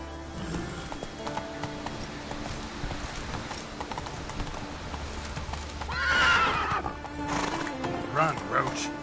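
Roach, a horse in a video game, gallops with rapid steady hoofbeats and lets out a loud whinny partway through, while a person talks over the action.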